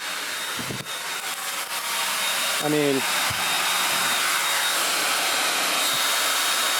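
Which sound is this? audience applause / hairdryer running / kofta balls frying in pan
hairdryer running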